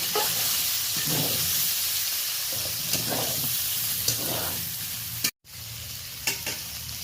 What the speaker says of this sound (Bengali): সবজিগুলো ফোড়নে দিয়ে একবার নাড়াচাড়া করে নেব এইভাবে